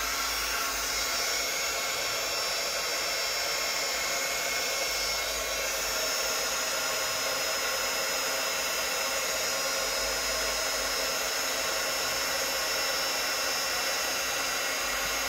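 A heat gun blows steadily on epoxy resin, a constant loud airy roar with no change throughout.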